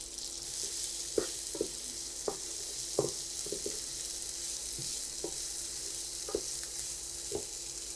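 Four chopped onions and two green chillies, one red and one green, fry in a pan with a soft steady sizzle, broken by scattered light clicks and taps of a spatuala stirring, with no voices.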